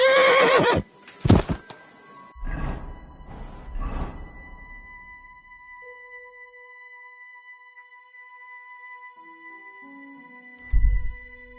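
A horse whinnies loudly at the start in the video game Kingdom Come: Deliverance II, followed by a few hoof thuds, then quiet sustained tones and a brief clatter near the end.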